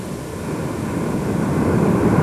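Steady broadband drone of an airplane flying overhead during the 1999 Dakar rally, a continuous engine roar that slowly grows louder over two seconds, with light wind buffeting and no voices.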